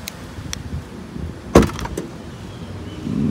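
A 2023 BMW i4 eDrive40 power tailgate opens at the press of a button: a sharp click and thump of the latch releasing, then a faint, steady motor whir as the hatch rises.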